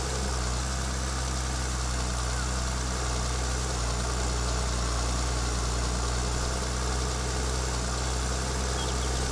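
Tractor engine of a New Holland 3630 in Farming Simulator 22, a steady, loud idling drone with deep low rumble that holds unchanged throughout.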